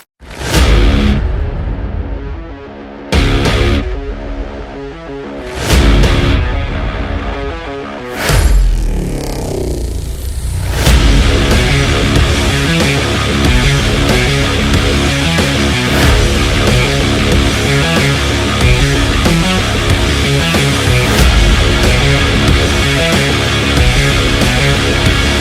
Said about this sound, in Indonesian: Yuk kita cobain mobil Suzuki Baleno GL tahun 2019 ini